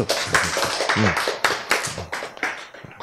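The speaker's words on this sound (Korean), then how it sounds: "박수, 박수." A small crowd claps in scattered, uneven bursts, close by, with some voices mixed into the applause.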